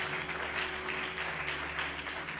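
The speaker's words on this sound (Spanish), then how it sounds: "den un fuerte aplauso al Señor" A church congregation applauds together, a steady wash of many hands clapping at moderate distance, fairly faint and with no voices over it.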